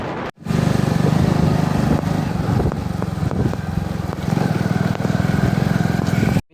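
A motorbike on the road gives a loud, steady engine drone close by, running without a break for about six seconds between short silent cuts at the start and end.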